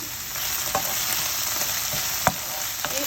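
Small peppers and cherry tomatoes sizzle steadily in a pan, giving a bright continuous fry hiss with a few sharp utensil clicks over about three seconds, and no one speaking.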